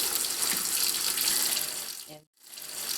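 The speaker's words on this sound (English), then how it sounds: "I put some cold water in them." Cold tap water gushing steadily into a Dutch oven of collard greens, a loud continuous rushing splash that briefly cuts off near the end before resuming.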